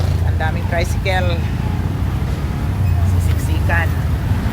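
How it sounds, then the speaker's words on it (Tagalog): Dense street traffic crowded with tricycles rumbles in Antipolo, a continuous low mix of small engines and road noise with short horn-like honks. People talk close by throughout. "Traffic. Ang daming tricycle."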